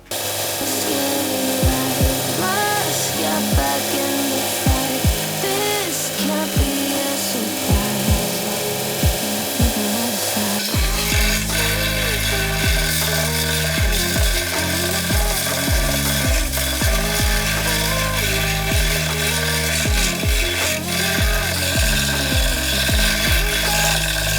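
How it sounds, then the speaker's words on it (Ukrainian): A Start Pro belt grinder sands a chamfer onto the end of a 50 mm pipe, a loud, steady abrasive rasp with repeated scraping strokes as the metal is pressed against the moving belt. "Так, давайте тепер попробуємо як працює гріндер."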